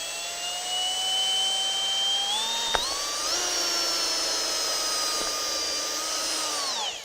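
A power drill whines steadily at high pitch, its tone rising as it speeds up and holding for several seconds before winding down.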